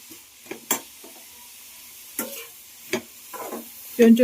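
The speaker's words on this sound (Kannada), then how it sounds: "ಫ್ರೈ ಮಾಡಿರ್ತೀನಿ ಇದು" Mushrooms, tomato and onion with a little salt fry in a pan while a spatula stirs them, giving scattered scraping strokes over a faint sizzle, close by and without speech.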